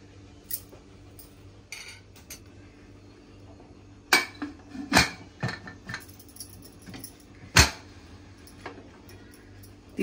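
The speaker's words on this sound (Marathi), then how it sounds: "आता आपण कुकर बंद करून घेऊया" A metal pressure cooker lid set in place and closed, heard as a few sharp close clanks and clinks with scattered light taps between them, in a quiet kitchen without talk.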